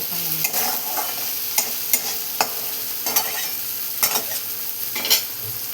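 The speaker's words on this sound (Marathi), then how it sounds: "अशी पुन्हा एकदा मिक्स करून घेणार आपण" Boiled potato curry with turmeric is stirred in a pan, a steady close sizzle with repeated rhythmic scraping strokes of a spoon against the metal.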